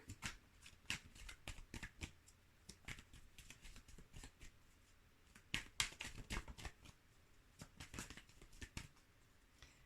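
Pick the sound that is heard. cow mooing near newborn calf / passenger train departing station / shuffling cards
shuffling cards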